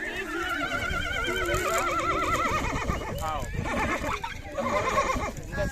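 A hungry horse calls out with loud, wavering neighs and whinnies that repeat across the clip, close by on a farm where it is being fed and cared for. Faint hoof clops sound beneath the calls.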